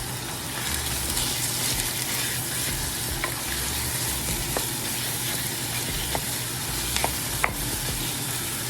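Sausage frying in a pan with rice, a steady dense sizzle and crackle running throughout, with a few sharper pops and light stirring scrapes, close and even in loudness.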